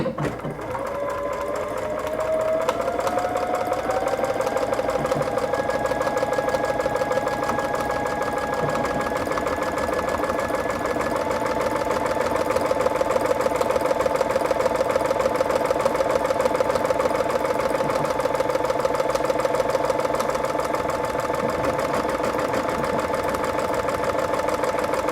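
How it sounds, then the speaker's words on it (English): A sewing machine stitches a button onto fabric with a steady, close, mechanical whirring and rapid needle chatter that runs unbroken for the whole stretch, with no voices. "Then I just start stitching. So, and it will just automatically do everything."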